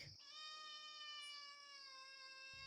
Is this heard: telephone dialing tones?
no